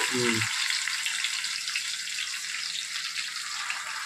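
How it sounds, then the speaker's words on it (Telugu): Chicken leg pieces sizzle and fry steadily in hot groundnut oil, with a brief clatter at the start as they go into the pan and a constant close hiss throughout. "ఇదిగోండి లెగ్ పీస్లు వేసేస్తున్నాను"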